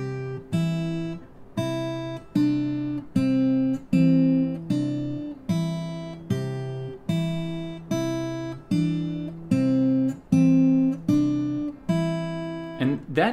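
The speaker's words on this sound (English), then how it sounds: "use a simple melody, a simple rhythm that is always pinched with the bass notes," Travis-picked acoustic guitar plays a simple, steady melody, each plucked treble note pinched with a low bass note in an even alternating rhythm.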